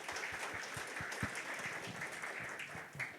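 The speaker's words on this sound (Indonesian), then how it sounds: "Ayo sorak-sorai jangan ragu buat Tuhan kita yang baik." A church congregation applauds and cheers during a worship service, with dense, steady clapping filling the room at moderate distance and a few voices rising through it.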